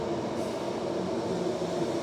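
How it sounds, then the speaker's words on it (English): A Perth NIS electric train on the Thornlie-Cockburn line, heard as a steady, loud rumble of running gear and traction hum that stays constant throughout with no voices. "Another NIS train"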